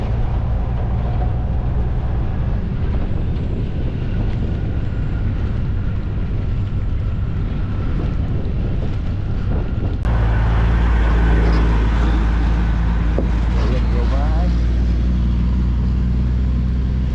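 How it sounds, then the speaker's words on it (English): Log trucks pass on a road near a bomb range, a loud continuous roar of heavy engines and tires that swells sharply partway through as a second truck goes by close. "There goes a log truck,"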